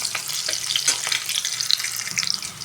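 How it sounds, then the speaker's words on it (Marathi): Chopped onion frying in oil in a pan over a medium gas flame, a bright continuous close sizzle with crackling pops and stirring, no voices. "अशा प्रकारे आपल्याला कांदा तेलामध्ये जरा फ्राय करायचा आहे"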